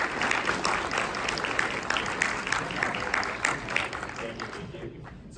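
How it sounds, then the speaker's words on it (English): Audience applause at a Los Angeles Comic Con 2024 panel, a dense steady clatter of many hands that stays fairly loud throughout and thins out in the last second, with no voices over it. "give a big round of applause for our amazing"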